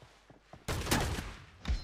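Gunfire in the mobile battle-royale game PUBG Mobile during a 1v1 custom-room fight: a sudden burst of rapid shots, brief pause, then another loud burst, close and sharp, with faint sounds before.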